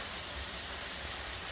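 Heavy rain falling, a dense, even hiss of rain on surfaces, quiet and continuous for a brief moment.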